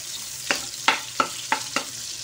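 White onion sautés in rendered pork fat for ginisang petchay, with a steady soft sizzle broken by five sharp stirring scrapes at regular intervals.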